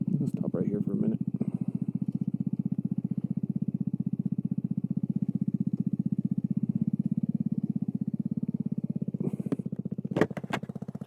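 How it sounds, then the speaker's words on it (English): A custom Kawasaki Z125 Pro motorcycle, lowered and stretched 4 inches, idles steadily and close for the whole stretch, with a brief voice near the start and a few sharp knocks near the end. "My Kawasaki Z125 Pro."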